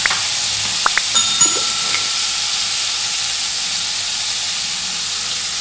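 Garlic cloves and chopped ginger sautéing in oil for tomato coriander chutney, a constant close sizzle with a few brief clinks and scrapes of stirring early on.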